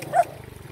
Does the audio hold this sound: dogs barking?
yes